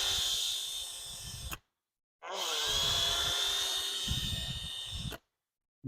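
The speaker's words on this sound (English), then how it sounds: "I got a little wire brush right here just to kind of clean that seat up a little bit to make sure there's no rough edges in there" A small powered wire brush scrubs the seat of a 33mm carburetor being rebuilt for a junior dragster, giving two sustained close, whining passes with a short silent gap between them.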